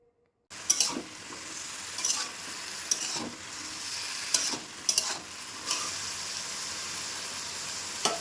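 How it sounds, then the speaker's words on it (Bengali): Chopped bottle gourd and potato sizzle as they are sautéed in a pan with salt and sugar. A loud, steady frying hiss starts after a brief silence, broken by spatula scrapes and stirring knocks. "লাউ আর আলুটা ভালো করে কষিয়ে নেব"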